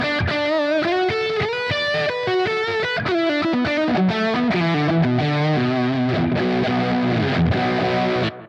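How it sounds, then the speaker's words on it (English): Heavy fuzz electric guitar through a Positive Grid Spark amp, a thick, saturated distorted tone playing a continuous melodic line with sustained notes, loud and alone until it cuts off at the end. "So it's quite a heavy sort of fuzz sort of tone."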